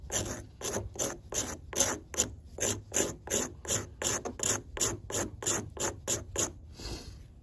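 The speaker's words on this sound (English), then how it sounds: "Let's scrape some fat wood and some ferro rod." A knife scrapes fatwood and a ferro rod in steady, rhythmic rasping strokes, about sixteen even passes close to the mic, ending in a softer final scrape.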